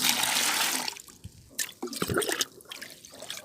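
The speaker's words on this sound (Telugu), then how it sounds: "ఒక ఏడెనిమిది లీటర్లు వాటర్ అయితే యాడ్ చేస్తాను" Water pours steadily into a tea powder mixture being diluted for a rose plant feed, first as a continuous gush and then breaking into splashes and trickles, close by.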